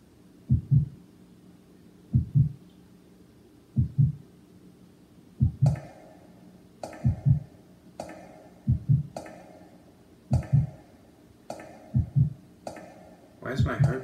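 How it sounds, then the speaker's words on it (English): Heartbeat in the video game Resident Evil: Code Veronica X, a steady, close double thump repeating about every one and a half seconds over a low hum, with a faint ticking layer joining partway through. "Why is my heart beating?"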